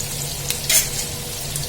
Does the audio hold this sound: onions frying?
yes